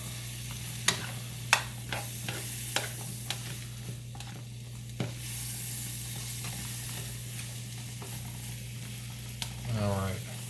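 Butter melts around mushrooms in a hot pan for carbonara, a constant crackling sizzle punctuated by repeated light taps and scrapes of a utensil, close up, with a brief voice sound right at the end.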